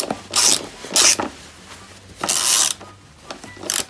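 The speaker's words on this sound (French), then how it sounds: "Là on est en train de visser la vis du côté." A screw being driven into the rear fairing of an Apollo 140 RXF motocross bike, several bursts of rasping, ratcheting screwdriver turns separated by short pauses, close and fairly loud with no talking.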